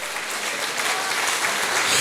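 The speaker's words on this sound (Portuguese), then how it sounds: "Pode aplaudir a Jesus," A church congregation applauds during a worship service, a dense, steady wash of clapping from many hands that holds even and fills the space throughout, growing slightly fuller toward the end.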